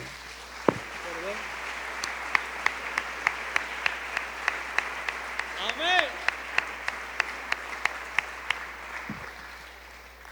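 A church congregation at a Thursday service gives a round of clapping, a faint, evenly spaced run of claps heard at a distance under a low hum, with a single voice and brief tones rising over it.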